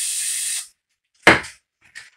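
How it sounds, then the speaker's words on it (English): A half-second hiss of cleaner sprayed into a hollow engine rocker shaft during a GT40 build, followed by a sharp knock and a brief second spurt, close and clear. "So give it a spray"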